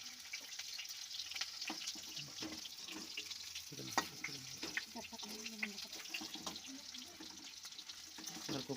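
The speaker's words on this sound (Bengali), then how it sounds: "কপিটাকে আস্তে আস্তে করে তুলে নেবো ভেজে ভেজে তুলে নেওয়া হবে কপিটাকে" Cauliflower pieces frying in a pan, a soft steady sizzle with faint scraping and stirring clicks throughout, close and fairly quiet, with no talking.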